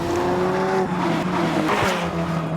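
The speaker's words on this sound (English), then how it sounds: "This is the Alfa 4C Spider." Yellow Alfa Romeo 4C Spider sports car driving at speed on a track, engine note holding steady then dropping as it shifts, with a brief tyre squeal near the end, no talk.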